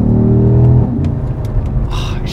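A Porsche running the Panamera Turbo engine without its turbos revs up close by, a rising engine note that drops back to a lower idle burble with faint clicks.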